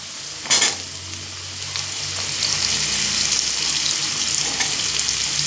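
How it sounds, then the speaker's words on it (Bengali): Potato pieces and chopped vegetable stems fry in a hot pan, giving a steady broadband sizzle with a brief stirring clatter near the start, then an even crackle that continues to the end with no talking. "দিয়ে আবারও 2 মিনিট মতো একটু আলুর সঙ্গে ভেজে নেব"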